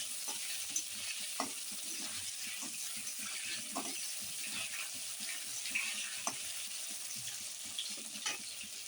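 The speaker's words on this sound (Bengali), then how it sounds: "আলুটা একটু নাড়িয়ে নেব" Cut potatoes stirred in a pan with salt and turmeric, a soft, fairly quiet sizzle with scattered spoon taps and scrapes throughout, nobody speaking.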